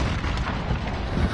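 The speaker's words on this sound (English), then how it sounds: "Grenade out!" Grenade explosion in Warzone on Rebirth Island, a dense, loud rumbling boom filling the whole moment with no speech.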